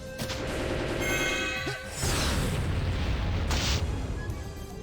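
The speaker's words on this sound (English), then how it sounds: "Let's go ahead and use a soaring fire instead." Soaring Fire spell from the video game Disgaea 2 goes off as a booming fiery blast with a whooshing rush, loud and dense over game music for several seconds.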